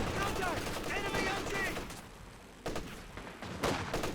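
Machine gun fire rattles in bursts during a Company of Heroes 2 match, dense at first and then in sharp separate volleys, under a commentator's voice.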